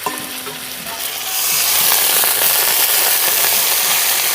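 Cumin, ginger and coriander paste with chilli hitting a hot pan for a Bengali vegetarian tadka dal, a quieter sizzle that swells into a loud, sustained hiss with stirring.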